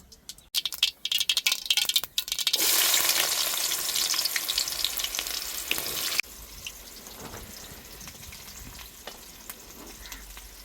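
Onion pieces dropped into hot oil in a pan for pepper chicken fry, a loud burst of sizzling and frying that settles into a steady, quieter crackle with occasional stirring rattles.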